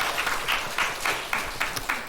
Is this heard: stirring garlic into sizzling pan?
no